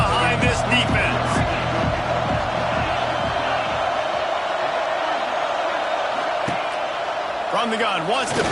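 Stadium crowd noise in the NCAA 26 college football video game, a steady loud roar filling the stadium with rhythmic thumps early on, continuing under play-by-play commentary.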